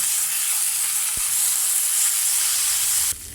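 Smash burger patties sizzle steadily on a hot griddle for a double cheeseburger, a loud continuous hiss with a brief scrape near the middle and a shift in tone just before the end as they are flipped.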